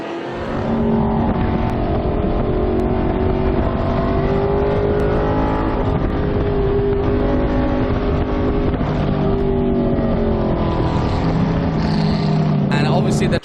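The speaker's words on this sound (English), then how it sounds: "Both of them racing Chevrolet Corvettes. And both of them in 69 Corvettes." 1969 Chevrolet Corvette race cars howl around the COTA circuit during a vintage race, a continuous loud engine roar with pitch rising and falling through gear changes, with a voice faintly underneath.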